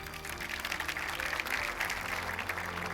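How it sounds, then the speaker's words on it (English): Applause fills a hall after a piano performance at the 2025 Zayed Award for Human Fraternity ceremony at the Founders Memorial in Abu Dhabi, a steady wash of many hands clapping, moderately distant, with no voices. "Please join me in giving them another round of applause."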